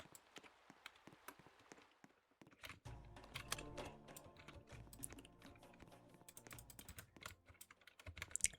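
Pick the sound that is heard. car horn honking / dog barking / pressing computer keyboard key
pressing computer keyboard key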